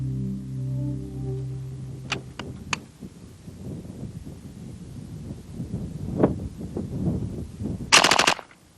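A C9 belt-fed light machine gun fires in short bursts: a few sharp cracks early on, then a dense rapid burst near the end. The shots stand over a faint windy background.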